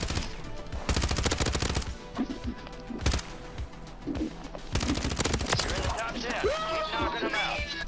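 Video game gunfire in rapid bursts and single cracks, loud and close, with talking and other game sounds in between.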